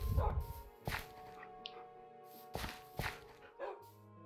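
Dogs bark in the video game Minecraft, a few sharp yaps scattered over several seconds against a busy game soundscape, fairly close and moderately loud, with no talk over them.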